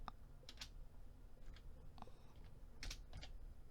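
A computer keyboard being typed on during an accounting software lesson: a few sparse, faint key clicks in small clusters over a quiet background hum.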